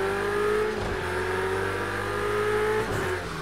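Several race cars in Project Cars 2 accelerate hard off the starting line, a loud, continuous layered engine roar with rising and shifting pitches as the pack pulls away together.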